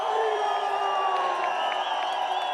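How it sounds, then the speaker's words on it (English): Spectators cheer and whoop at the finish area of a Freeride World Tour ski event at Baqueira Beret, a steady, distant crowd roar with scattered shouts that holds throughout. "the crowd's going crazy right now"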